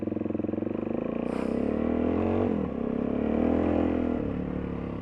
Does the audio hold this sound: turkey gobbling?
no